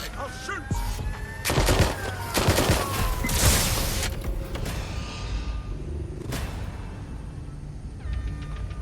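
Gunfire erupts in Watch Dogs: Legion as loud, dense bursts of shots and rattling volleys over a rumbling background. Sharp cracks stand out, and the firing thins out toward the end.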